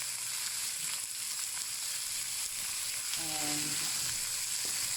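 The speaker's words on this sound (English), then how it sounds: "fry the mincemeat with the onions" Mincemeat and onions frying in a pan, a steady close sizzle and hiss throughout. Faint stirring scrapes are heard, and a brief spoken word cuts in near the end.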